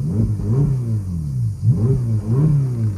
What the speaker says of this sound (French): On va commencer par faire quelques petits revs bien tranquillement, la voiture est bien chaude.